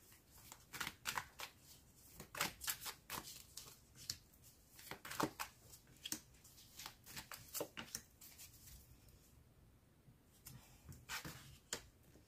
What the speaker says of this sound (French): je vous fais un tirage d'oracle et après, je vous ferai les derniers tirages